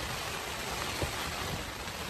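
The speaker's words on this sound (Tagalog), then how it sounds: "Nagsimula yung ulan parang alas 2. Hanggang ngayon hindi na tumigil." Steady rain keeps falling at a mountain viewpoint in Dagohoy, Bohol, a dense even hiss with no breaks throughout, fairly loud and unbroken.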